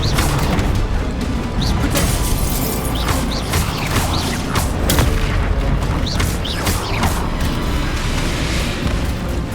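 Bombarda explosion spell in Hogwarts Legacy, dense chaotic booms, crashes and mechanical clatter in quick succession throughout, loud and continuous, with no talk.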